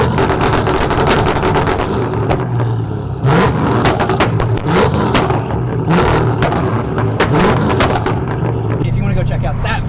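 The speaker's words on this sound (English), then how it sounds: "being able to downshift and make huge flames come out of the car and that pop and backfire" A modified Pontiac GTO engine revs loudly with rapid exhaust pops and sharp backfire cracks over a constant heavy rumble, heard up close with some talk mixed in.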